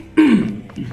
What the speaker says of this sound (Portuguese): Desculpa, gente. Tosse tá hard.